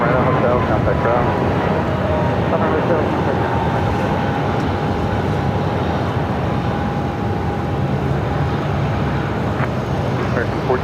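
An American Airlines Airbus A321neo jet departs Phoenix airport with a continuous, broad engine roar that holds steady throughout, while radio voices talk over it.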